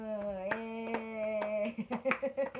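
Hands clap in a few sharp, irregular bursts over sustained tonal game music while Resident Evil 4 Remake is being played, the later claps quicker and more uneven.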